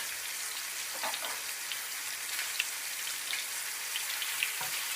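Vegetables for a sautéed vegetable salsa sizzle and crackle steadily in a hot pan, a soft continuous frying hiss with scattered pops throughout, no talking.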